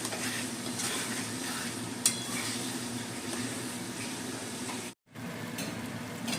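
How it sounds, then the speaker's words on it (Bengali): Potato chunks and spice masala are stir-fried in a pan for an egg curry, giving a steady close sizzle with continuous scraping and stirring. One sharp clink comes early, and the frying drops out briefly near the end. "এবার আলুর সাথে মশলাটা বন্ধুরা আমি আরও 3-4 মিনিট কষে নেব।"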